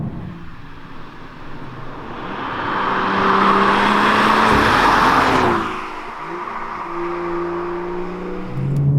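A BMW 440i in manual mode accelerates hard through the gears, its engine note swelling loud and rising before easing off after a shift, then pulling again.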